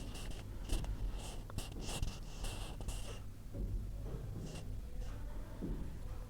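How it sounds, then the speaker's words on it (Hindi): Green chilies being chopped with a knife for a mustard greens (sarson ka saag) dish, giving a run of quick, close cutting taps in the first half that thin out to scattered strikes later, with no talk. "2 हरी मिर्चें काट लेते हैं इसी में ही।"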